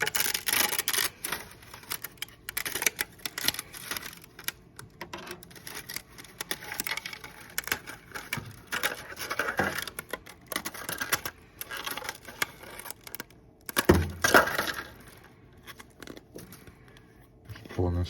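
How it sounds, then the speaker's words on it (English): Support material is torn and pulled off a 3D-printed Mandalorian armor part, giving repeated close crackling, snapping and crinkling bursts in an irregular rhythm that continue steadily with a few louder rips. "Tearing off support materials."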